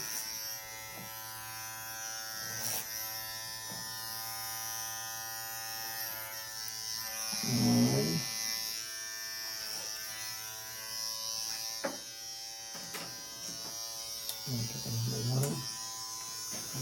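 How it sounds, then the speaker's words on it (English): Electric hair clippers buzz steadily while trimming hair over a clip-over comb during a mullet haircut, with the hum swelling at moments and a person talking intermittently over it. "I see there's room to do a little more trimming with your clip-over comb here."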